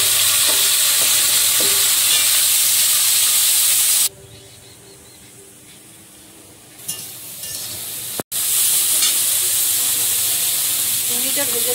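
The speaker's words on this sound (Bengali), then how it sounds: "চিংড়িটা ভেজে একটু জল দেবো" Prawns stirred and frying in a pan, with a steady loud sizzle and spatula scraping, a sudden drop to quieter hissing midway, then the sizzle surging back loud.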